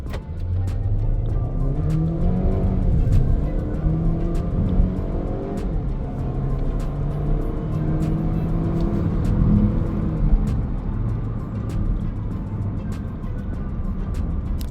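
A Haval H6 with a 1.5 turbo engine accelerates hard from a standstill to 100 km/h in sport mode, its engine note rising through the gears under steady road and wind noise inside the cabin.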